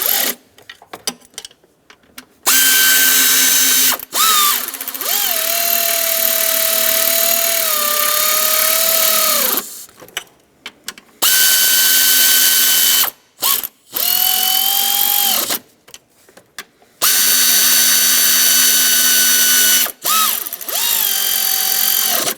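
Cordless power driver run down throttle body bolts on a 2009-2014 Ford F-150 with the 5.4L engine: several loud whirring bursts of a few seconds each, pitch sagging as each bolt seats, separated by short quiet gaps.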